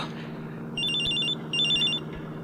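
A cellphone ringtone chirps in two short repeated bursts of bright electronic trills over a low steady hum, with no one talking.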